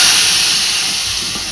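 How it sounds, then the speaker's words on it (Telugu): Hot tempering oil with spices is poured into a pot of dal for pappu pulusu, bursting into a loud, steady sizzling hiss that fades only slightly over the moment. "తాలింపు రెడీ, పప్పులో వేసేసుకుందాం"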